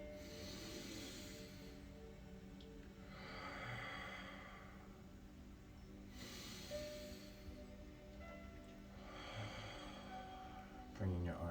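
Slow yoga breathing, with soft breaths drawn in and pushed out at an even pace, each lasting a couple of seconds, faint and close against a quiet room.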